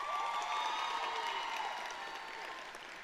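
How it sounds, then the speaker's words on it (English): An audience at a high school graduation ceremony applauds steadily, a dense wash of clapping that fades slightly toward the end. "Please give them a round of applause."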